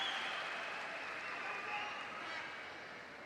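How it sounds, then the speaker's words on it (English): Crowd at a London 2012 Paralympic swimming heat applauding an 18-year-old British swimmer, a faint, distant, sustained roar of clapping filling the large pool hall. "Big applause for Jack Bridge, 18 years of age."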